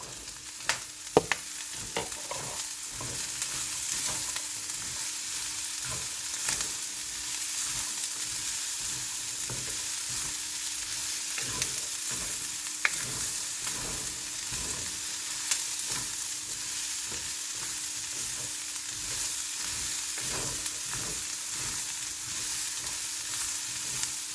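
Batong sitaw string beans sizzle in a hot pan for a Filipino stir-fried pakbet dish, a constant crackling fry with intermittent sharp pops and occasional stirring clatter, steady and moderately loud without talk.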